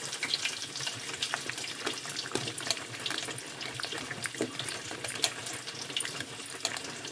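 Water streams steadily into a pot of mashed dal in a home kitchen, a continuous close splashing and gurgling with small irregular bursts throughout.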